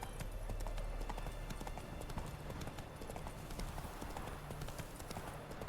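Horse hooves clatter in steady, rapid clip-clop rhythm while riding in the video game Witcher 3, a continuous close galloping patter with no voices.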